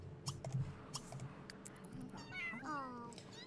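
A cat meows inside The Sims 3, its rising and falling calls coming through over a background of game music and sound effects.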